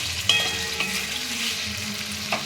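Ginger paste with chopped chilies and vegetables for a vegetable tehari fries in a pan, giving a loud, close sizzle with clinking stirs at a few moments.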